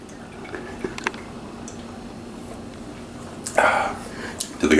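Beer poured into a Reuben dip: a faint background hiss, then a short gurgling splash of liquid near the end, with a second brief burst just after.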